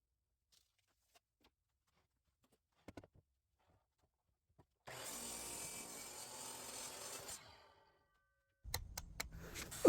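Wooden radiator cover top being sanded by hand in a workshop, a steady rough rubbing rasp lasting a few seconds at moderate loudness after faint taps, then sharper knocks and scraping toward the end.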